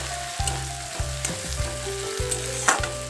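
Onions sizzle in a hot pan with a steady crackling hiss, broken by regular low scraping thuds as they are stirred. No voices are heard.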